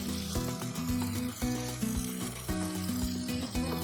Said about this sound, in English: before I step away and let this saute